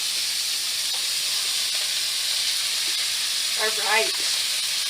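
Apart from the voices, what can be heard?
celery sizzling as it's added to a hot pan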